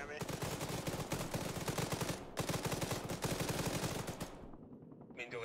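Arma 3 gunfire, sustained rapid automatic bursts that are loud and dense, nearly continuous with one short break, then tapering off near the end.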